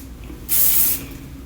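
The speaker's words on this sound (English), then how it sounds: "I love this stuff. I could just spray it everywhere." Hairspray from an aerosol can comes out in a single close, loud hiss of about half a second that stops abruptly.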